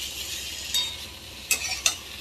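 Spices and ginger frying in a pan give a faint, even sizzle broken by a few quick scrapes of a spatula being stirred through.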